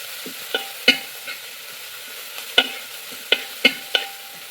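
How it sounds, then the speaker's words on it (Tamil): Onions sauté in a pan with mustard seeds for a ragi dish, a soft sizzle under a handful of sharp spoon-against-pan scrapes and clicks, heard close without speech. "வெங்காயத்தை சேர்த்துட்டு நல்லா கிண்டி கொடுத்துக்கோங்க."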